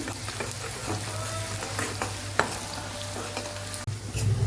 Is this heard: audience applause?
no